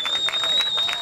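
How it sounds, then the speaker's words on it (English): Jamesville Dewitt home crowd cheers and claps in the background at a high school lacrosse game against Fairport, a rolling, moderately distant roar with a steady high whistle-like tone running through it. "You can hear the Jamesville Dewitt crowd in the background."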